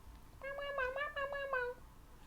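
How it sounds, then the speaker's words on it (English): A cat gives a drawn-out, wavering meow, fairly close and clear, in an otherwise quiet room. "Don't meow at me and then run away."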